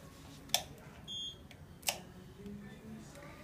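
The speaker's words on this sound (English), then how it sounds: "hold the exposure switch long enough to hear the beep" One short, fairly faint electronic beep from a dental X-ray unit's exposure switch while a maxillary occlusal radiograph is taken, set between two sharp clicks against a quiet room background.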